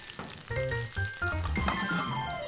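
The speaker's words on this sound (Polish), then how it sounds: "Na patelni 15 g masła, trochę oliwy z oliwek i na skwierczącym maselku" Beetroot pieces crackle and sizzle in butter and olive oil in a hot pan, close and fairly quiet, with brief stirring clinks and bursts of spattering.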